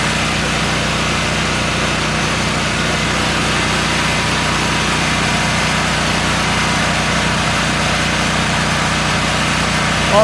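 Predator 7000/8750 portable generator engine running steadily at a constant hum, loud and close for the whole stretch with no talk.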